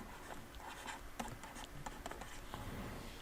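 Pen or pencil scratching steadily on paper while a calculus solution involving a natural logarithm is written out, close and quiet, with scattered small taps and strokes and no voices.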